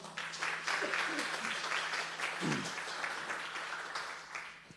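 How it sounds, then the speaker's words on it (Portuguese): A church congregation applauds together, steady and fairly close, with a few murmured voices and calls mixed into the clapping as it continues and slowly eases off. "Vamos aplaudir o Senhor."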